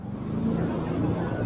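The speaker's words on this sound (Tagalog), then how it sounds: "Umaga pa dami nang sasakyan dito." Cars, jeeps and other vehicles on a busy morning road pass by, producing a dense, steady traffic roar at moderate volume with no clear talk.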